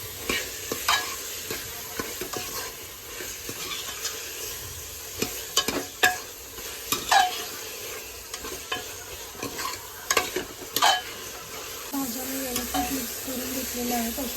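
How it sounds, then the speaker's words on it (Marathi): Peas and mixed vegetables stirred in a pan for veg pulao, a soft sizzle under repeated scraping and clacking of a spatula in irregular bursts, close and fairly loud, no talking. "मटर आणि मिक्स भाज्या व्यवस्थित मिक्स करून घेणार आहे।"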